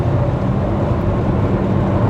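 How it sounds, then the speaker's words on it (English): A car with a leaking exhaust, a steady low rumbling drone filling the cabin, continuous and loud with no talking. "I'm sorry if you guys hear my exhaust leaking."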